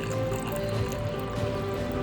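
Ajwain water is poured out in a soft, continuous liquid trickle with faint dripping, heard fairly quietly over a low steady background.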